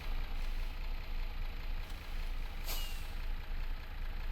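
A vehicle engine turns on in the Minecraft Dark RPG modpack, giving a steady, loud mechanical drone with a brief brighter hiss partway through and no talking.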